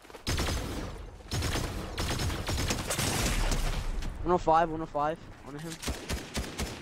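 Gunfire in the Fortnite video game, a fast spray of sharp shots and impacts mixed under continuous excited talk, with a louder close burst partway through.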